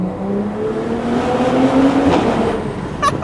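BMW M340i with a B58 engine, stage 2 tune, XHP transmission, 200-cell downpipe and resonated OPF delete, its exhaust roaring steadily under load and rising in pitch, with a sharp crackle near the end.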